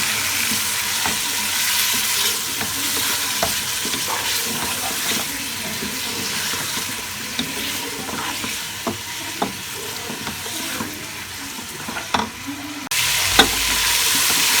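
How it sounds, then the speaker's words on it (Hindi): Beef pieces fry over a medium flame for a masala biryani, giving a steady, close sizzle throughout with scattered clicks and scrapes of a spoon being stirred through the pan. "गोश्त के पीसेस डाल देंगे हम इसमें और अब हम इसको 5 से 7 मिनट के लिए मीडियम फ्लेम पर भूनेंगे"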